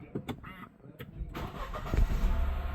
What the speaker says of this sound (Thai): เหยียบเบรกกดปุ่มสตาร์ทครับ